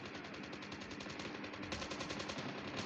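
Automatic gunfire in the Call of Duty video game, a steady, fast rhythmic rattle of machine-gun shots that runs without a break, moderately close and fairly even in loudness.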